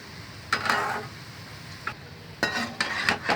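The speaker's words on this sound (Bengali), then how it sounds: "কম আঁচে ভেজে নেবে।" Coconut and banana fritters fry gently in oil on low heat, a soft crackle broken by a few sharp stirring and scraping clinks from a spatula, close by, with no voices.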